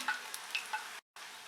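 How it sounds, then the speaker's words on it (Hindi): Boondi, droplets of gram flour batter, fry in hot oil with a soft steady sizzle and small crackling pops, heard close and quiet before dropping briefly to silence. "इस बूंदी को हमें बहुत ज़्यादा देर तक तेल में तलना नहीं है।"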